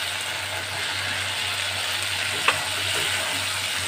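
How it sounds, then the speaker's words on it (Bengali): Fried potatoes sautéed with spice masala in a pan for a jackfruit kofta curry, a steady close sizzle of oil throughout with one brief scrape of a spatula partway through. "আলুটা ভালো করে মশলার সাথে কষিয়ে নেব।"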